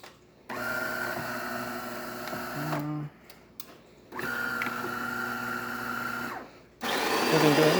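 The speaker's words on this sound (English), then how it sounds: "we're gonna just do a shot of espresso" A DeLonghi Magnifica espresso machine, freshly serviced with its grinder on the finest setting, runs in two long whirring, buzzing stretches with short pauses, then a louder hiss at the end, close and with no talk.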